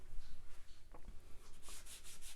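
A paintbrush scrubs paint onto a canvas at close range, a quiet, dry, continuous rubbing with a few faint scratchy strokes near the end.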